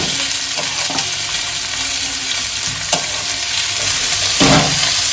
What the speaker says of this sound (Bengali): পেঁয়াজটা একটু লাল লাল করে হালকা ভেজে নেব।